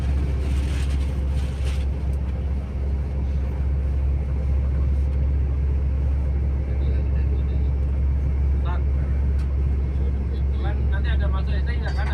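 A bus carries passengers toward the high-speed train station on the Mecca–Medina route, its engine producing a steady, loud low rumble with road noise throughout, while a voice speaks over it.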